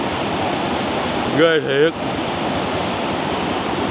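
Mountain stream rushing beneath a bamboo bridge in the Y Tý highlands of Lào Cai, a steady broadband roar of water that runs throughout, with a short exclamation from a voice midway.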